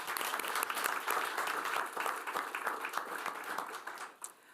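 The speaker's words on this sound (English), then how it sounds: "Let's take a moment to show our appreciation with a round of applause for PTA and our staff." A school district board meeting audience applauds the PTA and staff, with dense, sustained clapping from many hands at a fairly close, steady level that tapers off at the end.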